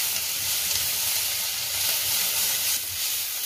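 Ginger paste frying in a pan with capsicum and onion for crispy chilli potatoes, a dense continuous sizzling hiss held at a steady level throughout, with no talking.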